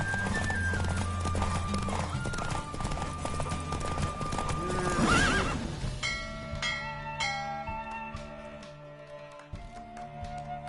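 Rhythmic hoof clip-clop of a horse at speed during a race in The Witcher video game, with a brief whinny, backed by game music and chiming bells that take over in the second half.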